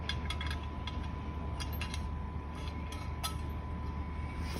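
17mm crescent wrenches turn nuts and bolts on a tension cap of an aluminium T Gola framing system to wind fabric through, giving scattered light metallic ratcheting clicks over a steady low hum.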